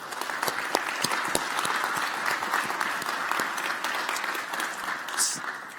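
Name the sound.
audience round of applause for speakers and sponsors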